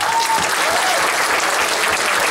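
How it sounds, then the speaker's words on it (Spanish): A church congregation at a Sunday morning service claps for the Bible school team in a strong, dense burst of applause that holds steady from start to finish. "Yo quiero que también les demos un fuerte aplauso a ellos también."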